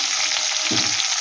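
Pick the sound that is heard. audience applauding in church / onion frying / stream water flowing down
onion frying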